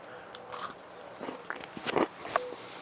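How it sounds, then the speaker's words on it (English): Someone bites into a sea-salt chocolate chip cookie, crunchy outside and soft inside, giving a few close, quick crunching bites and chewing sounds with no talking. "let's go ahead and take one and let's take a bite"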